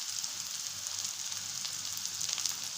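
Curry leaves dropped into softened onions frying in hot oil for a brinjal curry, giving a steady, faint hissing sizzle with light crackles, no talk.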